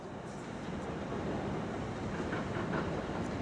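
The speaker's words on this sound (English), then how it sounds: "So this is the 10:16 to Horsham, which calls at Vauxhall and West Humble and Warnham." A South Western Railway train at a station platform, a steady low rumble with a faint rising whine, heard from fairly close, with no talking.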